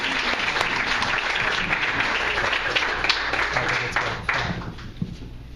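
Audience at a Tuesday Funk reading event applauding to welcome a reader, a dense sustained wash of clapping that thins out and fades toward the end.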